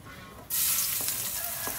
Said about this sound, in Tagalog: Nagigisa na po tayo ulit. Unahin natin ang bawang.